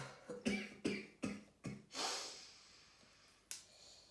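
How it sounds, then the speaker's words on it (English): A run of short, close coughs in quick succession, then a raspy breathy exhale and one final cough. "Please stop coughing."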